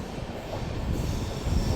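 A train on the Goa to Secunderabad line rolls through dense forest with a loud, rumbling roar of wheels on rails, steady and close, swelling slightly toward the end.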